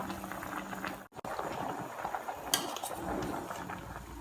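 Tom yum soup with mackerel boils steadily in a pot, giving a continuous bubbling and gurgling with small pops, close and fairly quiet.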